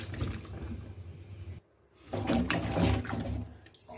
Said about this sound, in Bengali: এভাবে করে কষলিয়ে কষলিয়ে ধুয়ে 2-3 বার করে আমি ধুয়ে নিব।